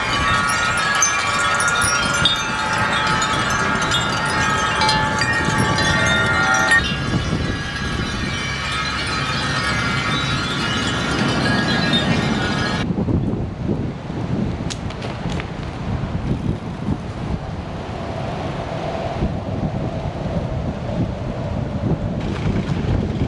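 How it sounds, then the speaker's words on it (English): Wind chimes hanging from a tree clang and ring continuously in strong wind, metallic tones layered over gusty roar that later drops to wind noise alone. "You can hear me above the cacophony of the wind chimes, which is known as the wind chime tree."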